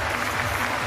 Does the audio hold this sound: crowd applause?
yes